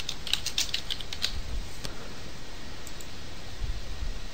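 Computer keyboard typing while editing text in AutoPlay software, a quick cluster of sharp key clicks near the start followed by a few scattered taps over a steady hiss, fairly close and without speech.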